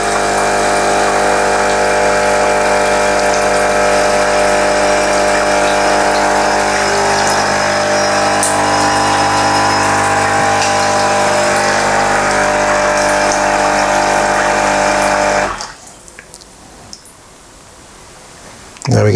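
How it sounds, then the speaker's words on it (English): Steady droning hum of a pump in a Sage Barista Express espresso machine running its descale cycle, loud and continuous for about fifteen seconds before cutting off abruptly into quiet. "Pressing this button, I'm starting the process, so we're looking at around 25 seconds to start the descale"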